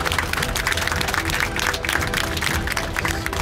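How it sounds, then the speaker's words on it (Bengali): An audience claps in sustained applause at a stage event, dense and continuous for the full few seconds. "তাদের জন্য একটা হাততালি।"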